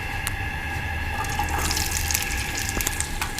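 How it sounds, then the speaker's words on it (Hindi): Potato chips fry in a pan holding a cup of oil, making a continuous, fairly loud bubbling hiss that stays steady throughout. "मैंने पैन में 1 कप ऑयल ले लिया है और इसमें मैं चिप्स फ्राई करने लगी हूँ"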